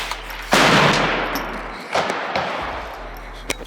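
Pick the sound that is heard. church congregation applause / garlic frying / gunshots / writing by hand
gunshots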